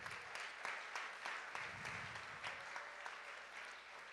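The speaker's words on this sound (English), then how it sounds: "round of applause" Audience at an athletics awards night giving a round of applause for student athletes, sustained dense clapping from a large crowd that stays steady throughout, heard from a distance in a big room.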